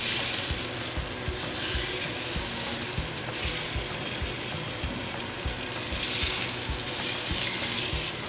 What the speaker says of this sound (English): You wanna hear that sizzle, that's when you know you're cooking.